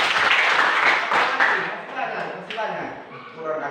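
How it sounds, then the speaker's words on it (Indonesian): A group audience claps for Andika, a dense, close burst of applause that fades gradually over a few seconds, with voices mixed in. "Tepuk tangan ke Andika."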